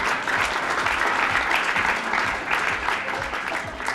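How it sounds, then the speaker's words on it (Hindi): An audience claps loudly for a student's correct answer at a Hindi quiz-style gathering. The applause is dense and steady for about four seconds, with no voices over it. "तालियां बजाओ भाई पेट्रोल"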